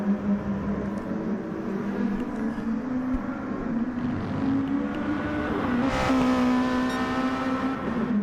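A Lexus au TOM'S RC F Gr.2 race car drives the Kyoto Yamagiwa-Miyabi circuit in Gran Turismo, its engine holding a steady, loud drone that climbs in pitch as it revs up near the end.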